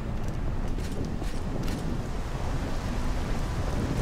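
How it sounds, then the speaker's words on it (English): Steady rain and rumbling storm ambience in the video game Morrowind, with fog rolling in; a continuous, fairly loud wash of rainfall with low rumbles throughout, no speech. "Uh-oh, storm's rolling in."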